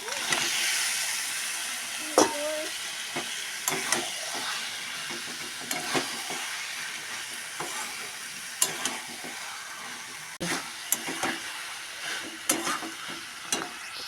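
Chicken sizzles and fries in a pan, a continuous close hiss broken by repeated sharp clatters and scrapes of a utensil stirring the meat at irregular intervals.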